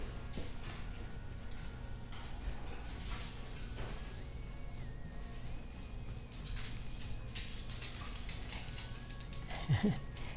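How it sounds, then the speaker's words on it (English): Dogs whimpering and whining at dinner time in a noisy room, faint high cries rising over a steady background rumble, with a brief sharper yelp near the end. "That's my dogs, you hear"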